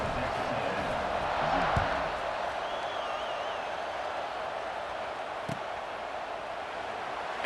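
Steady stadium crowd buzz in the EA Sports College Football 26 video game, a broad continuous roar of many voices at an even level right after a score, with a couple of brief thumps.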